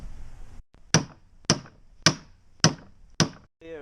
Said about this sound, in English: I'm just gonna hit it with a hammer and see what happens.